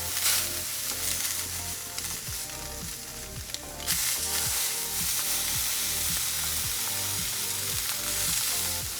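Filet mignon sears in a hot pan with a loud, continuous sizzle and crackle, dense and close throughout, with a brief shift partway through as the meat is moved.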